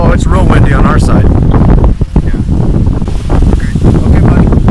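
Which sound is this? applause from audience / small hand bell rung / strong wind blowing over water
strong wind blowing over water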